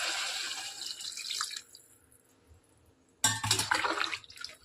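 Water from a tap pours into a mixie jar and then into a pan of cooking vegetables for vegetable rice, with a steady splashing flow, a quieter pause, then a louder renewed pour, close by.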